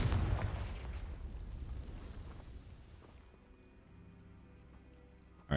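A Confringo spell explosion in Hogwarts Legacy bursts loudly at the start, then its booming rumble decays over several seconds into a quiet ambient hum, with a sharp new hit right at the end.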